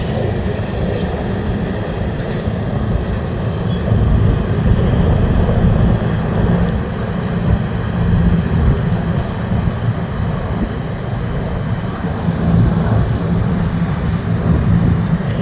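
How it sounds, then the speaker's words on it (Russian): Airplanes fly overhead outdoors with a loud, continuous low engine roar that swells and eases slightly without breaking, no talking heard. "Ой, еще самолеты полетели."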